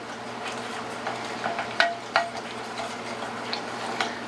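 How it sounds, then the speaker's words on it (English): Garlic and sesame seeds cook in hot Chinese chili oil, giving a soft continuous sizzle with scattered crackles and pops and a few sharper ticks, moderately quiet and steady with no talking. "this is cooking that garlic in there, toasting the sesame seeds"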